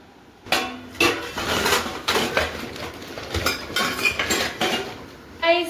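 Steel dishes and cutlery clink and clatter during washing-up in a home kitchen, with a series of sharp metallic knocks close by and no talking.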